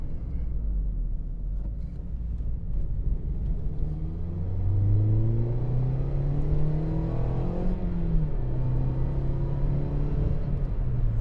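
A 2016 Mazda MX-5 ND engine revs steadily close by, its low rumble climbing in pitch as the throttle opens and then settling back down, with no talking over it.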